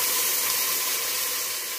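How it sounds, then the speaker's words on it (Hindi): Water hisses and sizzles as it pours into a hot pan of browning onions, a short, loud, steady steam burst close by. "3 पाव पानी डाल दिया साथ ही"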